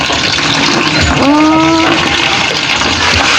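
Water gushes steadily from a hand pump outdoors, a loud continuous splashing flow with a brief squeaky creak of the pump handle in the middle.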